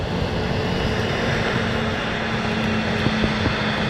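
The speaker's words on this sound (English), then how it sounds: "Oh, a Eurowings just touched down as well." A Eurowings Airbus A320 touches down at Manchester Airport, heard as a dense, steady jet rush with a faint droning hum underneath, continuous and fairly loud through a brief stretch.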